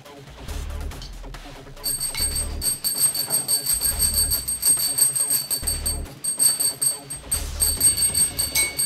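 A small bell rings repeatedly in bright, rapid shakes, loud and close, with brief pauses between bursts and low thumping underneath.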